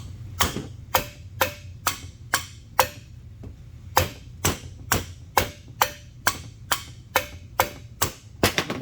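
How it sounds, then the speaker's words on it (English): Hard side of a black mallet tapping a part into place during Chevy Vortec engine assembly, about eighteen sharp, close knocks in quick rhythmic pairs and runs with brief pauses. "Go ahead and take my mallet, this black mallet. The black side is the hard side, the white side is the soft side. Use the hard side, of course."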